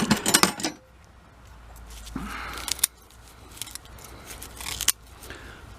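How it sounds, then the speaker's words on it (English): Several crisp metallic snips and clicks of scissors cutting the roots of a young ginkgo tree, close up, with pauses between cuts and light rustling. "Maybe easier to get in with the scissors."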